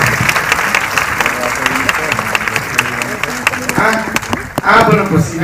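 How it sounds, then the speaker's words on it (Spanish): A festival opening-night crowd applauds steadily, loud dense clapping with a voice speaking over it and a brief louder burst near the end. "Un aplauso para él, por favor,"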